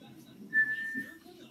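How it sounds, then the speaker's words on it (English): A referee's whistle sounds in a Rangers vs Devils hockey video game: one clear, steady blast lasting well under a second, over quiet game background with a faint voice. "The ref blows the whistle"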